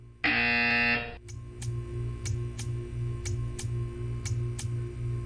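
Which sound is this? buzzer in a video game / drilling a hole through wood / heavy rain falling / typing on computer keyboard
buzzer in a video game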